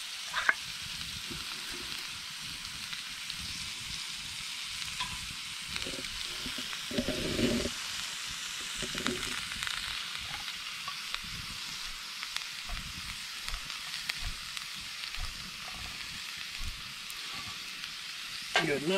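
Frozen vegetables, Spam and canned cream of mushroom soup are stirred in a pot over a campfire, with a soft sizzle under repeated scraping spoon strokes against the pot.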